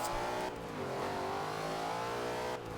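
A Shelby GT500 engine in Forza Horizon 2, with a drag build and tune, revs loudly and steadily with a rising, droning roar and harmonic whine, close and continuous with no talking.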